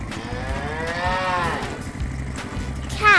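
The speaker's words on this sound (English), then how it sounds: "Cow." A cow gives a long, loud, drawn-out moo close by on a farm, with no talk.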